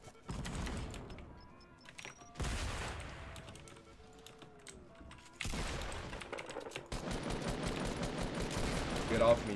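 Assault rifle fire in Fortnite, several sharp bursts of shots scattered across the clip at moderate loudness, mixed with game noise and clicky keyboard-like taps.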